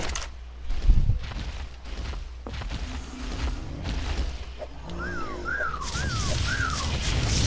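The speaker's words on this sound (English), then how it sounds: "Stop whistling!" In the ARK Survival video game, a few short rising-and-falling whistles sound in the second half amid whooshes and thuds of game action, moderately loud and not close.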